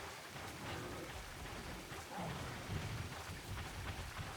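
Rain and thunder in the Monster Hunter 2 video game, a steady wash of rainfall with low thunder rumbles building partway through, heard on its own without talk.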